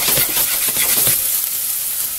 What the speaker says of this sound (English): we've got some olive oil in the pot with some garlic and onion chopped up already. We're going to saute that for a little bit.